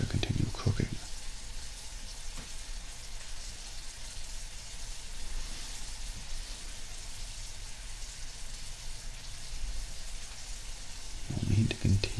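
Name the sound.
candy mixture cooking in a pan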